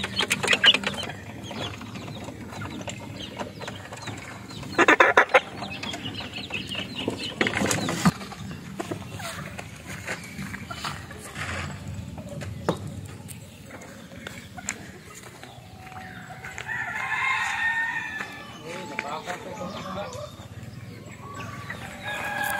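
Backyard chickens with a rooster crowing among the flock, giving scattered clucks and a few sharper calls at moderate distance over a steady outdoor murmur, with no one talking.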